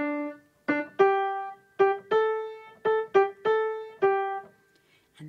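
A short piano riff from Grease, about nine plucked-sounding notes in an uneven rhythm, clear and close, with pauses between phrases and no talking.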